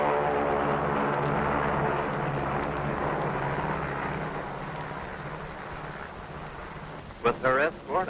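B-29 bomber Dave's Dream flying toward the Bikini target with escort planes, its piston engines giving a loud, steady propeller drone that eases slightly over time; a brief voice breaks in at the end.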